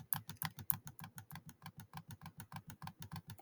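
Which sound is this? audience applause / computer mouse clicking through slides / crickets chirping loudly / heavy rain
computer mouse clicking through slides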